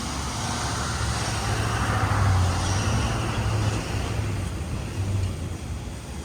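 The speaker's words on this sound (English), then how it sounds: "And I'll let the truck pass before I keep talking." A truck passes on a street in Auburndale, Newton, Massachusetts, as a steady close roar with a low engine rumble that swells and lingers across the whole stretch.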